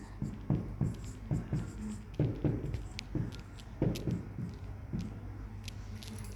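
A pen scratches out an address by hand in short, quick strokes with small pauses between them, soft and close, no talking.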